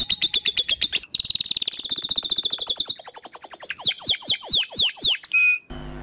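A small songbird such as a canary or lovebird chirps loudly and rapidly, with trills and repeated sweeping whistles in a continuous close-up song.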